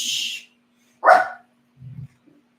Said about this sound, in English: right now he's barking at my TV